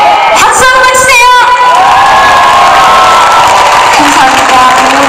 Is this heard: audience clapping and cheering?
yes